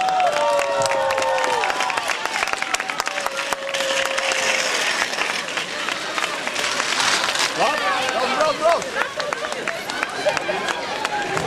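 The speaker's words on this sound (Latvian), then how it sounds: "Un tika dots tāds aplauss no publikas." Crowd applause and cheering from spectators lining a mountain bike marathon course in Smiltene, Latvia, a steady wash of clapping running throughout beneath a commentator's voice.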